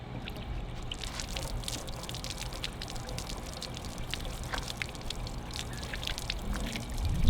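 Water pours and splashes steadily onto a Ferrari's bodywork for several seconds, a continuous hissing wash with scattered drips.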